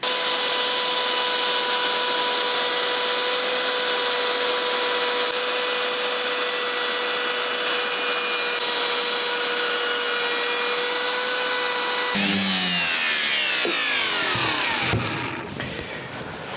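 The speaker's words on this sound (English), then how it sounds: "we're going to take the router and run the router around the corners just to put on the same decorative moulding" A router runs around the corners of wooden coat hook backboards, a loud, sustained high whine with a steady pitch that shifts into rougher cutting noise near the end before the motor spins down.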